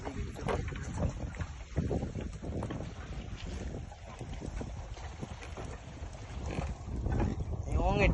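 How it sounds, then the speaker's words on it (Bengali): A small boat on the river near Chandpur rocks in strong wind and waves. Water sloshes and slaps against the hull and gusts buffet the microphone, with voices talking over the noise. "অনেক ঢেউ, বাতাসে ঢেউ প্রচুর"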